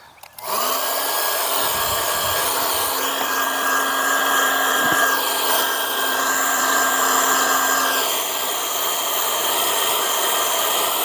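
A heat gun blows steadily and loudly on the back side of a luxury vinyl plank transition piece, a continuous broadband whoosh with a faint motor whine, alone with no talk.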